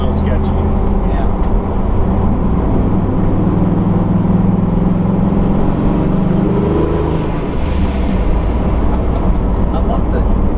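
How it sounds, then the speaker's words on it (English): Turbocharged 460 engine exhaust at light, roughly 30% throttle on a road drive, a steady deep rumble holding constant throughout under a continuous wash of road and cabin noise. "I love the exhaust. It sounds so good."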